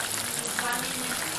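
Shrimp brochettes sizzle in a hot frying pan, a continuous close crackling hiss that holds steady without pause.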